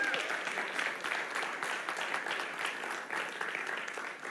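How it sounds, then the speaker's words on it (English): An indoor audience at a launch event claps steadily, a dense, even wash of applause that holds throughout. "Give Mohammed another round of applause."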